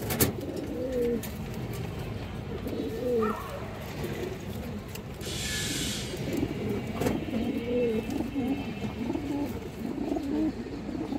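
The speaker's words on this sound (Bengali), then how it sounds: "এটা খুব সুন্দর মাদি কবুতর মাশাআল্লাহ, গেন্দা মাদি কবুতর" A female Genda pigeon coos in soft, repeated low calls close by, with other birds chirping faintly among ambient background noise.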